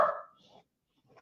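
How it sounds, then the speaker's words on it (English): A single dog bark bursts out loud at the start, then fades into a short trailing whimper-like tail and quiet, indoors during a home art journaling session. "my dog started barking now"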